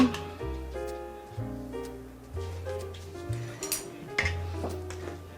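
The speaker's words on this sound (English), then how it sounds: "Now I'll mix everything together, make sure everything is combined." Ingredients for Asian cheese macaroons being mixed in a bowl, with soft scraping and clinking of a utensil against the bowl in short repeated strokes, close and fairly quiet over a low background hum.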